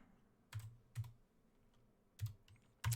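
Typing on a computer keyboard, several isolated quiet keystrokes spaced irregularly, close and alone with no speech.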